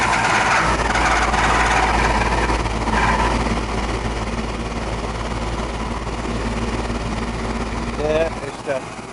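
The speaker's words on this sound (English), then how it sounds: "it's the condensing motor" An air conditioner condensing unit motor runs loudly as a dense, continuous mechanical roar with a strong low hum, close by and easing slightly over time, with a brief chirping sound near the end.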